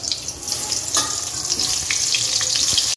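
Fish frying in hot oil gives off a loud, continuous close-up sizzle and crackle, unbroken throughout with no voices.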